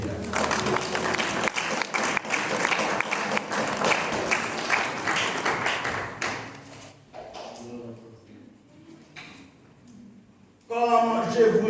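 A church congregation claps and applauds steadily, with voices mixed through the sustained clapping before it fades into quieter talk and singing.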